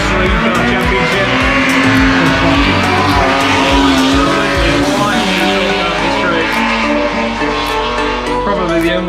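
A Jaguar Mark 1 classic saloon touring car slides sideways down the straight at CarFest North 2022. Its engine roars loud and close, tires squeal continuously, and voices can be heard underneath.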